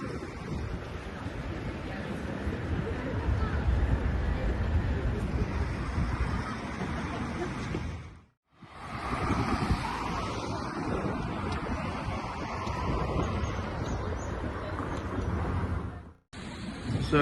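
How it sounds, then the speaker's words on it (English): Gusty wind buffeting across an open town square near a basilica in Zaragoza, Spain, a loud rushing roar with two brief lulls where the gusts drop away before surging back. "It is a bit windy."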